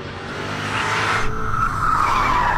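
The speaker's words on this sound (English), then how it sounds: "here's some lovely oversteer into turn 8 and pass the finish" A 600-horsepower BMW M5 sedan squeals its tires in oversteer into a corner on a race track, a loud, sustained screech over engine roar that rises in pitch toward the end.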